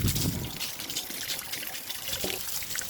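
Water mixed with antifreeze drains from an RV hot water heater in a steady, close trickling stream that runs unbroken throughout.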